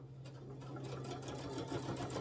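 A sewing machine back stitching fabric for a bowl cozy, with a steady close motor hum and fast needle chatter running throughout at moderate level, no voices.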